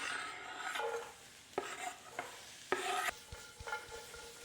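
Peppers and onions stir-fry in hot oil over high heat, giving a steady sizzle broken by several sharp scrapes and clatters of the utensil against the pan.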